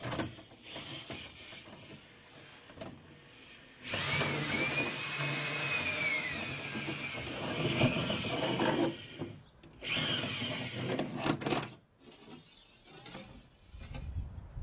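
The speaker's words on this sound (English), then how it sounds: "It's easy to get the drill out if you just give it short bursts in reverse" A power drill runs in reverse in short bursts as the bit is pulled out of a wall, whirring loudly with rough grinding and rubbing, stopping and restarting several times.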